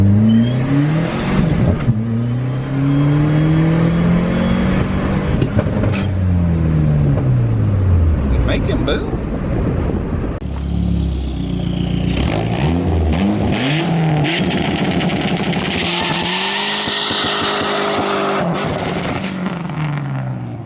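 A turbocharged minivan fitted with a hydraulic handbrake pulls away hard on the road with loud, steady engine revving through repeated rising gear pulls and a roaring whir that continues without a break.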